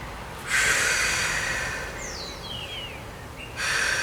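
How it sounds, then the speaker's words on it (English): A yoga practitioner breathes audibly during a hatha stretch, with a steady breathy exhale lasting a few seconds, close and fairly loud, with no talking. "Always breathing."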